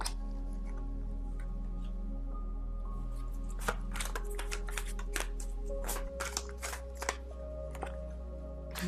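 Tarot cards being shuffled and drawn at close range, a run of crisp papery riffles, flicks and sharp taps in irregular bursts over a low steady hum, with no talking.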